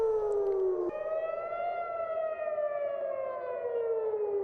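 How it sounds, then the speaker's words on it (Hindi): Air raid sirens wail over Jerusalem and Tel Aviv, a steady, loud rising-and-falling tone with a brief jump in pitch near the start, then a long slow downward glide with no talk over it. "यरूशलेम में और तेल अवीव में एयर रेड सायरन बज रहे हैं, इसकी आवाजें सुनाई दे रही हैं"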